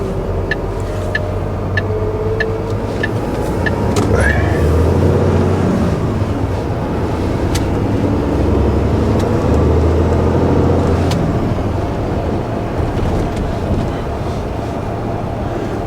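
A vehicle driving along an English road near the A46 on a scrap collection run, a steady broad road and engine rumble with wind noise throughout, a faint repeated ticking like an indicator early on, no talk.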